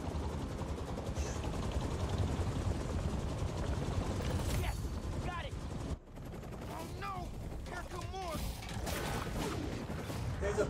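A helicopter in the video game Spider-Man 2 makes a constant loud rotor drone mixed with gunfire and crashing action sounds, cut off briefly before resuming as voices talk over it.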